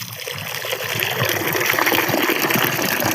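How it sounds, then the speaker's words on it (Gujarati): Water gushes and splashes continuously into a pigeon water tank, a full, close pouring sound that grows slightly louder. "ટાંકી સાફ કર્યા બાદ આપણે એમાં પાણી નાખ્યું"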